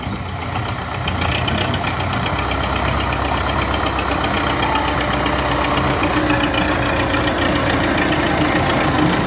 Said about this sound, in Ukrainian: Приводна НШ-32 працює чітко.